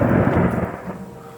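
A deep rumble of thunder during a tornado storm, loud at first and then fading over a second and a half, with no voices.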